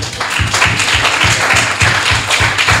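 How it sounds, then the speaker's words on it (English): Audience applause at a post-film discussion at Busboys and Poets, steady and fairly loud clapping with sharp repeated hand impacts throughout, no talking. "Give him a round of applause."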